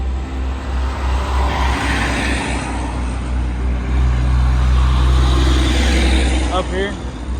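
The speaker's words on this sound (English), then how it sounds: "I get clipped by a car coming through here" A car passes close by on a road beside the Appalachian Trail, its rushing engine and tire noise swelling loudly past, while a hiker talks over it.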